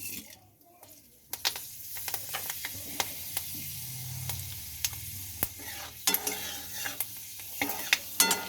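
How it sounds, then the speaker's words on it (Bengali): Fenugreek seeds hit hot oil in a pan for a fish curry, giving a bright crackling sizzle, with sharp scraping clicks of a spatula stirring at irregular intervals. "এবার আমি এই তেলে দিয়ে দেব মেথি।"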